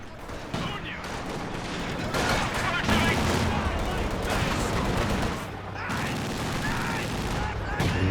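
Quad anti-aircraft guns fire a burst amid a sustained, loud battle in Company of Heroes 2, with layered gunfire and booms running continuously throughout.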